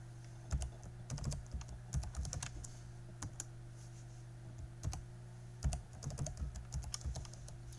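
Typing of passwords on a computer keyboard, with bursts of fairly quiet keystroke clicks in irregular clusters over a steady low hum, with pauses between runs of keys.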